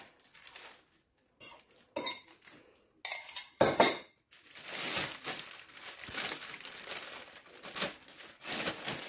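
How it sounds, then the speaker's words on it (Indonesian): Cooked, oiled noodles are pushed into a food-grade plastic bag for freezer storage, giving soft intermittent crinkling and rustling with a few sharper rattles and clinks, close and fairly quiet, with no talk. "Nah ini tinggal dimasukin aja ke plastik ya."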